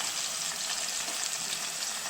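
Masala sizzles steadily in a pan of well-fried onions, a continuous close hiss and crackle of frying for mutton curry with poppy seeds, with no voices.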